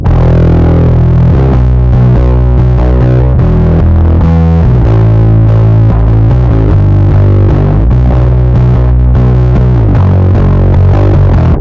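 A thick, fuzzy bass riff through a Big Muff distortion pedal plays loud and sustained, with saturated low notes pulsing in a steady groove and no voices.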